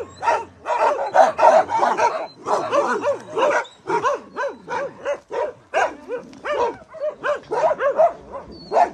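Several strong dogs at a shelter barking, a rapid, loud string of close barks and yips with occasional whimpers, overlapping continuously with no pauses.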